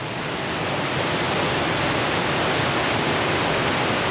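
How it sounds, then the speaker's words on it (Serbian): Spring water pours steadily down from a hillside and drains toward a river, a loud, continuous broadband rush with no breaks. "Vidite, odavde voda ide."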